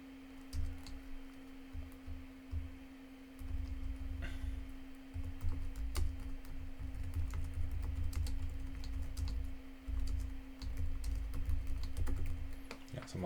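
Steady keyboard typing while coding string functions for a frontend lesson, a continuous patter of soft clicks running throughout over a constant low electrical hum.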